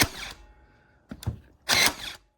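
A Powertough 20V cordless staple gun fires staples into 1/8 inch plywood, giving three sharp mechanical bursts: one at the start, a quick double hit, then a final longer snap, with quiet gaps between.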